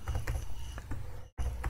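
Soft keyboard typing, a handful of scattered clicks and taps at close range, with a brief gap of silence near the end.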